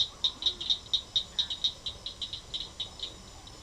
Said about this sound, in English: Right now we're hearing a lot of frogs, bullfrogs over there.